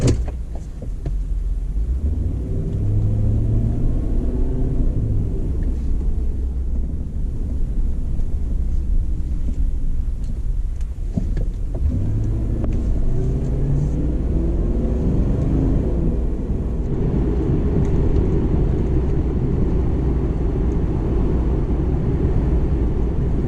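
A Ford Lincoln Town Car on new tires drives steadily, with a low continuous engine and road rumble and gentle rises in engine pitch as it accelerates.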